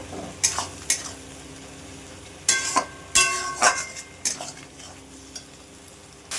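Spice paste and chopped tomatoes being stir-fried in a pan for green chili chicken, with a soft sizzle under repeated sharp scrapes and clinks of a spatula against the pan, close and irregular, with no talking.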